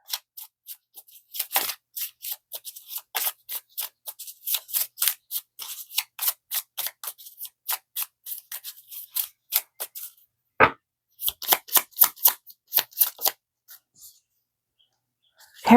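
Tarot cards are shuffled by hand in a rapid run of crisp riffling snaps, close and dry, with a brief pause before a final flurry.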